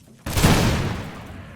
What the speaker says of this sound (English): First volley of the grenadiers